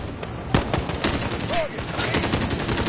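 Gunfire in the Modern Warfare campaign, a dense ongoing fusillade of shots crackling steadily for a few seconds, loud and close, with muffled game voices mixed in.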